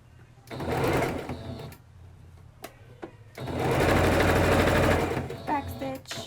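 A home sewing machine runs in two bursts, about a second and then nearly two seconds, stitching a back stitch with a steady whirring motor and mechanical clatter, brief clicks between runs, in a noisy household.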